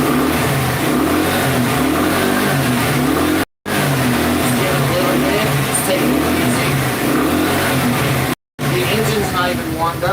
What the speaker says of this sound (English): Let's go ahead and give it some throttle.